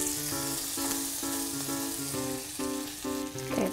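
Freshly flipped deer pancakes sizzle in a greasy pan, a constant close frying hiss running beneath a bright melodic tune that plays over it.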